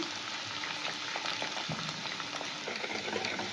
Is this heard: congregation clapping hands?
no